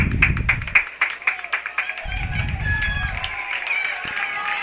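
Crowd noise at a high school varsity football game between South O'Brien and Sibley-Ocheyedan, a steady mid-distance roar of cheering and clapping with rhythmic low thumps, alongside bursts of announcer talk.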